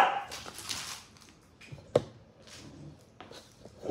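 Dogs playing together let out short, scattered barks and yips with snappy, brief bursts between quieter stretches, fairly close by and with no talking.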